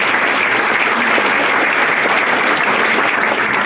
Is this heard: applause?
yes